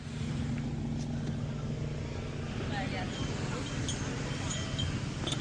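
A car on a beach creeps slowly forward with a low, steady engine rumble at idle, heard close and fairly quiet with faint voices in the background.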